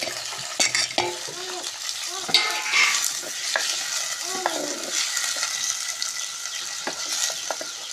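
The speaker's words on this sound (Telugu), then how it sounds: "ఉల్లిపాయ ముక్కలు వేస్తున్నానండి" Onion pieces frying in a pan for a mutton and fenugreek leaf curry, a steady close sizzle with scraping stirs and clinks of a utensil against the pan throughout, no talking.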